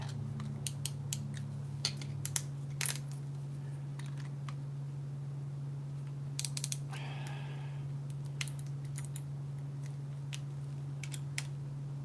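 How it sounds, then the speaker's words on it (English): A folding knife with a DLC-coated blade has its pivot loosened slightly, giving scattered faint metallic clicks and ticks over a steady low hum, with a brief scraping creak partway through. "I am going to have to loosen that pivot ever so slightly."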